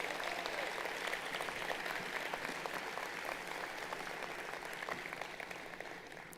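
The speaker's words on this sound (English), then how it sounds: "Would you give them a round of applause" Applause from a crowd at an outdoor university commencement ceremony, distant and fairly faint, a steady wash of clapping that holds evenly throughout without voices standing out.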